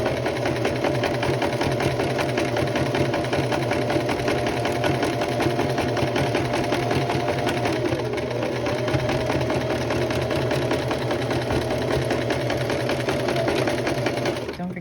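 A sewing machine runs a dress seam out to the edge in one long steady buzzing stretch, close and continuous, with a voice talking over it.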